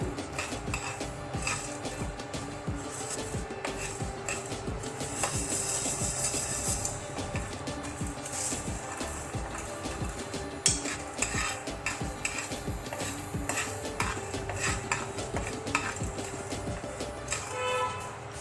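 A spoon scrapes and clinks steadily against a pan as masala roasts over a low flame for aloo matar, a continuous close clatter of metal on metal with a faint sizzle underneath and no talking.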